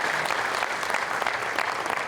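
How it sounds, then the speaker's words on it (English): Crowd at a park barn grand reopening applauding park supporters, a dense, even round of clapping filling the whole moment with no voices over it. "we need to applaud for them right now"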